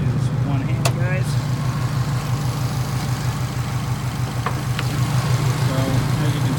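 A 2006 Subaru WRX with a COBB Stage 2 tune and larger intercooler idles warm after twenty minutes, a steady, loud low rumble pulsing evenly throughout, with a few faint clicks and brief voice fragments over it.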